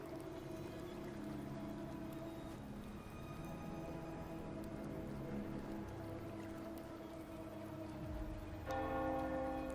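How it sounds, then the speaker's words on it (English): A bell tolls in the video game Wuthering Waves, its sustained, ringing tones hanging steadily over a low ambient backdrop, with a brighter, louder strike near the end. "Hear that? The bell they tolled."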